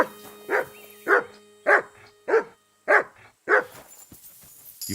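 A dog in the medieval game Kingdom Come Deliverance 2 barks six times in an even rhythm, each bark clear and close against a quiet background with no talking.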